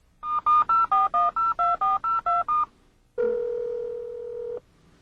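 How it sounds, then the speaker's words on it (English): Integrated cellular phone in a BMW 7 Series E38 dials out: a rapid run of about ten clean touch-tone beeps, followed by a steady sustained tone lasting over a second, loud and close with no talking. "The integrated cellular phone will automatically call the BMW Emergency Call Roadside Assistance Service Center."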